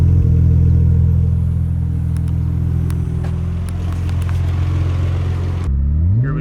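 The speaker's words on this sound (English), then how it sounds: "So we're gonna do some 0 to 60 times and see what this thing can do with the new turbo setup at max boost." A 500 HP turbocharged Nissan Skyline GT-R at max boost accelerating hard from a standstill to 60 mph, heard from inside as a loud, droning engine roar with a steady rising pull that drops off abruptly at the shift near the end.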